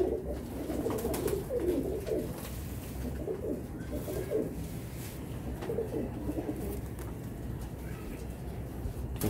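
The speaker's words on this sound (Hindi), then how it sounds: "दरमियाने कबूतर होते हैं जी" Medium-sized pigeons kept by a hobbyist in Karachi coo in a loose, repeating rhythm of soft throaty calls, close by and fairly quiet over faint background noise.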